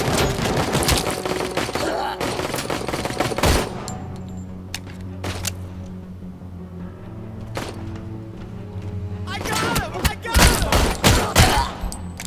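Gunfire in RoboCop: Rogue City: dense bursts of rapid shots and impacts in the opening seconds, a quieter stretch with scattered single shots, then another heavy flurry near the end, loud and close.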